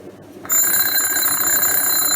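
An electric alarm bell is switched on after a brief quiet moment and then rings continuously and loudly, a sustained metallic clatter close by with no talking.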